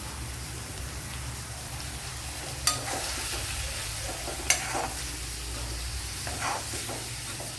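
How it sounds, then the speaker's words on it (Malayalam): Half a teaspoon of masala powder sautés in a pan for quail egg curry with a steady soft sizzle and crackle, a couple of sharp spoon taps against the pan, close and quiet, no talking. "ഇനി ഇതിനെ നല്ലപോലെ വഴറ്റിയെടുക്കണം"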